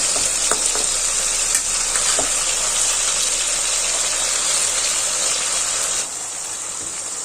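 Raw mango and tomatoes fry in a pan with a loud, steady close-up sizzle. A few faint clicks come as the pieces are turned over, and the hiss drops slightly near the end.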